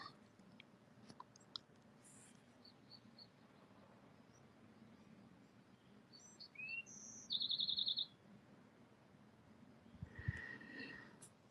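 Scattered bird chirps and tweets ring out over a quiet background, including a brief burst of rapid trilling near the middle.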